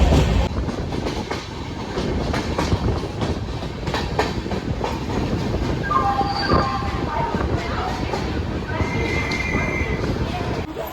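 The Pandian SF Express, on its Chennai Egmore to Madurai run, rolls toward Chengalpattu with a loud, continuous rumble and rhythmic clickety-clack of wheels on rail joints, heard from on board, with faint tones rising over the din.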